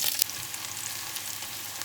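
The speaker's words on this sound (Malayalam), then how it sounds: "ഇനി നമുക്ക് റൈസ് ഒന്ന് ഗാർണിഷ് ചെയ്യാൻ വേണ്ടി സവോള ഒന്ന് എണ്ണയിൽ ഫ്രൈ ചെയ്തെടുക്കാം." Sliced onions fry in hot oil for a rice garnish, giving a soft, steady sizzle with a brief louder crackle at the start and then a faint, even hiss, with no voices.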